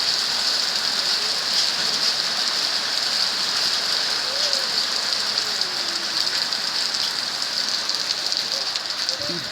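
Steady rain hisses on surfaces, a continuous even patter with faint background sounds.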